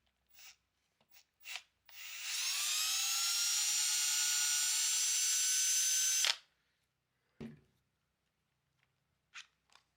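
A power drill unscrews a screw from the rear bumper hinge of an Arrma Granite RC truck, one sustained whirring run of about four seconds between a few short clicks and taps, close and clear with no voices.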